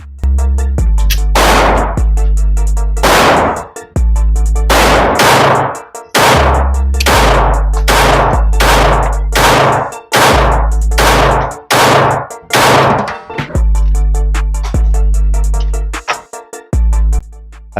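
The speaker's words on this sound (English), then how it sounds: "These are the first 10 shots with the extended mag." Around a dozen sharp, loud pistol shots from a Smith & Wesson Bodyguard 2.0 fitted with an extended magazine, fired one at a time in an uneven rhythm with short pauses between them.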